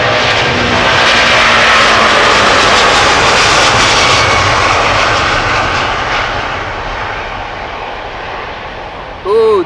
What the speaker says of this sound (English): 777-200 to Dallas Fort Worth, Texas.